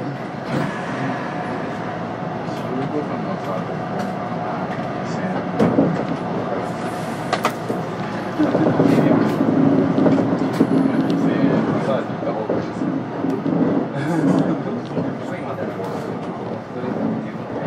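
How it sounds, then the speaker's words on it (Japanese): Hapi-Line Fukui local one-man train running from Tsuruga toward Fukui, heard from inside the car: a steady rolling rumble with rail clatter that swells louder midway, while faint onboard announcements sit underneath. "普通列車福井行き発車します。"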